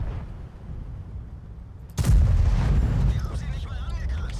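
A tank cannon fires in World of Tanks, a sudden loud boom that rolls into a sustained rumbling tail; there is no gunfire before it, only low engine noise.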